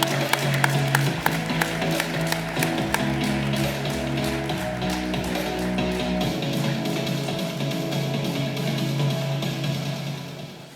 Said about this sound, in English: Let's give AmpNet a huge round of applause and welcome them to the stage.